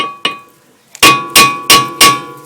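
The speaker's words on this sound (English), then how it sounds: "Now let me use a smaller hammer." Sharp metallic hammer blows from a small hammer strike brake parts on a 1999 Honda CR-V, one lighter tap and then four loud ringing whacks in a quick, even rhythm, close by.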